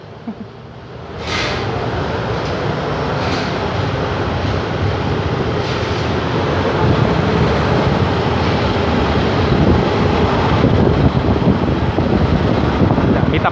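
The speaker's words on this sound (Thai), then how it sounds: "ตอนนี้ขบวนรถก็ออกจากสถานีบ้านโป่งแล้วนะครับ" A train rumbles loudly as it gathers speed leaving Ban Pong station, a steady roar mixed with heavy wind buffeting the microphone.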